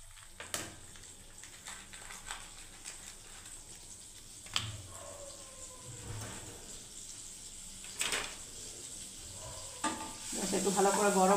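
Butter melting in a hot pan gives a low, steady sizzle, broken by occasional stirring clicks and scrapes, with the frying growing louder near the end; the scene is a home kitchen cooking paneer curry without oil.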